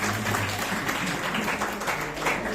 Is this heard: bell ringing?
no